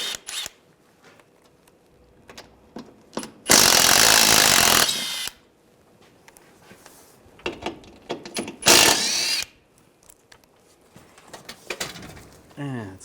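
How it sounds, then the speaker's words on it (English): Power ratchet or impact tool with a 10mm socket removing bolts from the underbody shield of a 2013-2016 Dodge Dart 2.4L, two loud close buzzing bursts separated by quieter clinks and handling noise. "use a 10mm socket, take these bolts down"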